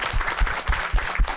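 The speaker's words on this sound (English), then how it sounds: "If we could all give him a round of applause for his good work." Audience applause for a panelist at a climate policy discussion, a short burst of dense clapping with a steady wash of hands, fairly loud and close, with no talking over it.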